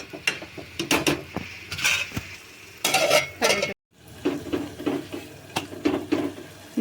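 Chikkudukaya bean curry is stirred in a pan on the stove, with repeated close scraping and clinking of a utensil against the pan, irregular strokes, and a short pause midway.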